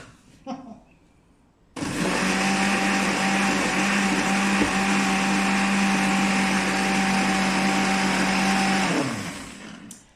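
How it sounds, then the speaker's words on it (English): A countertop blender whirs continuously at high speed for about seven seconds, puréeing Christmas chilli paste, starting abruptly after a few quiet kitchen knocks and cutting off cleanly. "let's do our first blend"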